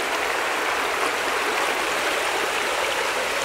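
The Paramirim river flows in a steady, dense rush of water, constant and fairly loud with no breaks, like a stream pouring over rocks.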